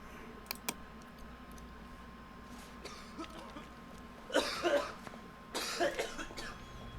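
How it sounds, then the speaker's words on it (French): A man in a 2013 film coughs in a few short, sharp bursts that come in two clusters, faint and set against quiet background noise with scattered clicks. "Vous voyez, il tousse, il postille."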